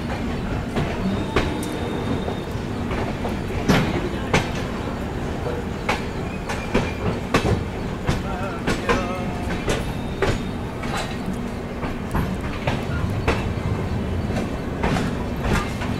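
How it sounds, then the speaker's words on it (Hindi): Trivandrum Rajdhani Express train running on rails after leaving Hazrat Nizamuddin, heard from inside a first AC coach: steady rumble with repeated clickety-clack wheel beats throughout, with occasional faint voices. "निर्धारित समय से अपनी ट्रेन निकल चुकी है निजामुद्दीन रेलवे स्टेशन से"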